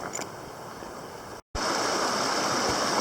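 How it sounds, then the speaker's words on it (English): A wide river in the Virgin Mountains rushes steadily close by, a dense continuous roar of flowing water with one very brief dropout partway through. "The river was even wider just a little bit ago."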